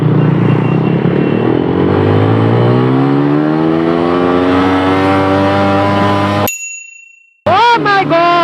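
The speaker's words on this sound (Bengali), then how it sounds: "আজকে আমার লঞ্চেন জিপি 165 সিসি 3 নাম্বার গিয়ার পর্যন্ত চেক দিব যে প্রত্যেক গিয়ারে গিয়ারে কত পর্যন্ত ওঠে।" A Loncin GP 165cc motorcycle revs up through its gears, engine pitch climbing steadily and loudly before cutting out, then a short burst of revving resumes.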